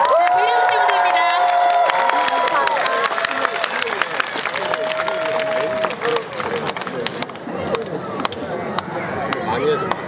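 Audience at an outdoor radio station public broadcast concert claps and cheers loudly, with shouts and whistle-like cries over steady applause and sharp individual claps, while voices carry through the crowd noise.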